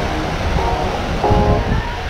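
Waves at Teluk Penyu beach in Cilacap under overcast skies, a loud continuous rumbling surf wash with a slight swell midway, no voices.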